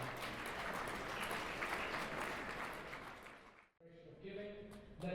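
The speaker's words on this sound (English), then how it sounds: "Please give a nice round of applause." An audience at a charity gala applauds in a dense, sustained round of clapping that fades out near the end, followed by a voice speaking over a microphone.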